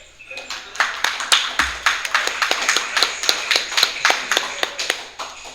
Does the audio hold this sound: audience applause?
yes